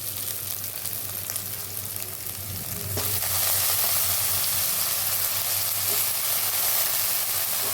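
Brinjal pieces dropped into a pan for curry with onion, ginger-garlic paste and turmeric, a loud dense sizzle that grows stronger after a few seconds and holds steady, with faint stirring and no talking.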